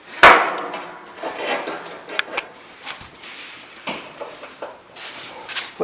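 Pliers prying a suspension spring loose from a Maytag washer tub, with a sharp metallic clank at the start followed by scattered knocks, scrapes and rattles of metal close by.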